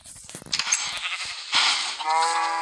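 Sheep bleating in the Minecraft video game, several overlapping game-style bleats in quick succession, fairly loud and close, with no talking over them.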